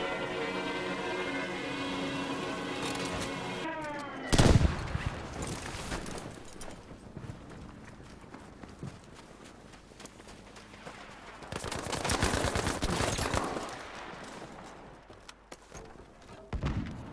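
An enemy gunner in the Battlefield V alpha fires bursts of machine-gun fire, with a loud impact thud and later a dense rattling volley amid battlefield noise, no talk.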